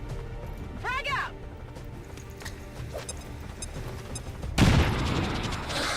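Grenade blast and gunfire in a turn-based alien strategy game, a distant whistling streak early on, then a sudden loud burst near the end that lingers as crackling noise under steady background talk.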